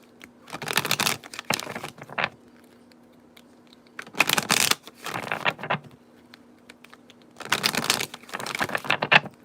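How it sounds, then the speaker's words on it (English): Three separate bursts of brisk tarot card shuffling, each a rapid riffling patter lasting about a second, with quiet pauses between them and a faint steady hum underneath. "All right, last shuffle"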